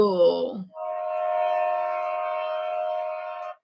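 A person imitates train sounds with their voice, giving a short vocal sweep followed by a steady, sustained horn-like tone lasting a few seconds.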